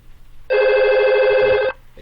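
An office VoIP desk phone rings on an internal extension call, giving a single loud, steady electronic ring burst of just over a second that then cuts off, with faint room noise before and after.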